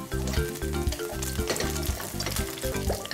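Garlic and fiery pepperoncino chili fry in oil in a pan, giving a dense, close crackling sizzle with bursts of popping throughout a few seconds, alone without talk.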